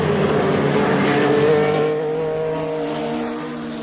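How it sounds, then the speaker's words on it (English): Race cars drive through Bishop at the Sebring circuit, including a Porsche, a throaty engine roar that swells and then fades as cars pass at a moderate distance, with a hint of tire squeal and no voices. "Good throaty sound to all of these cars."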